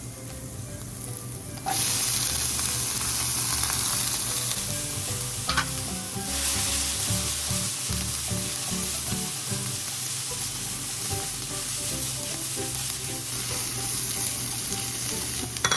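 Chopped onion and the tough kangkong stems are stir-fried in a pan for adobong kangkong with tofu. A loud, steady sizzle runs throughout, with utensil scrapes and stirring clatter and no voices.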